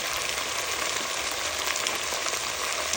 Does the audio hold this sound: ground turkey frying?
yes